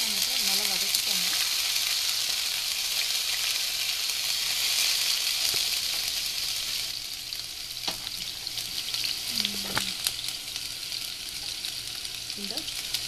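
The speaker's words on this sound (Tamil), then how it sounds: "ஆட் பண்ணிட்டு நல்லா வதக்கிக்கோங்க." Ginger garlic paste sautéing in hot oil, a loud continuous close sizzle with occasional stirring scrapes, for shark puttu.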